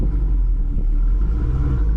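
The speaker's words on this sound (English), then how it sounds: "Now that's me taking off as if I had my 373s in." Chevrolet Camaro ZL1 with a 10-speed transmission, in track mode, pulling away hard from a stop, heard from inside the cabin as a steady loud low engine rumble with no talk.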